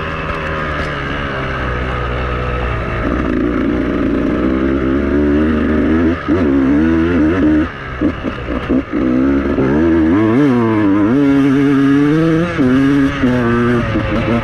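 A Beta motorcycle engine revs hard while being ridden, loud and close throughout, its pitch rising and falling with throttle changes and brief dips between gear shifts.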